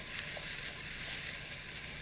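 Pineapple and chicken sauté in a pan, an even, close hiss of sizzling oil that holds steady for a short stretch with no voices.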